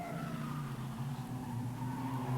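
A Holden Commodore production race car, number 50, runs at Amaroo Park, its engine a steady droning note that holds and shifts slightly in pitch as it passes at moderate distance.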